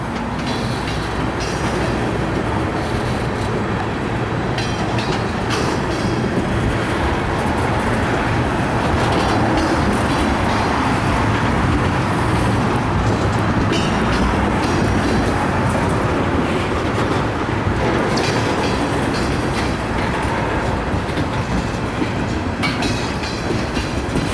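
A heavy CSX westbound mixed freight train with a mid-train locomotive rolls slowly past nearby, a loud continuous rumble of rail cars with rhythmic wheel clatter and metallic squeals, steady for the whole span.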